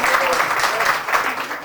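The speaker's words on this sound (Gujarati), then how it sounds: "તાળીઓથી વધારે લેશું મિત્રો પ્લીઝ." A crowd at a havan gathering in a hall bursts into loud, dense, continuous clapping close by, with a voice faintly under it.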